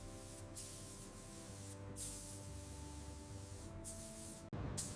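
Glossy finish coats being sprayed onto the frame of a 1967 classic car under restoration, with several short hissing bursts of spray over a steady hum from the workshop.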